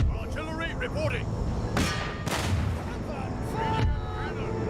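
Artillery firing in Empire: Total War, a few heavy booming shots with broadband blasts against steady battle ambience, while someone talks through it.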